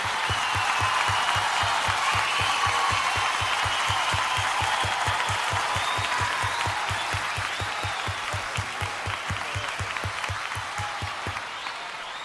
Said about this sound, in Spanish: Aplauso para ella, muchas gracias.